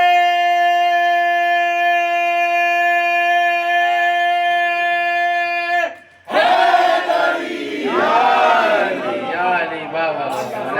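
A crowd at a 15 Shaban Jashn-e-Ahlebait gathering in a Chishti Sabri khanqah chants religious slogans. A sustained droning tone fades out, then loud massed voices surge in together, close and reverberant.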